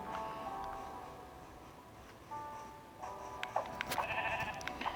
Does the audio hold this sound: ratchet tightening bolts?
no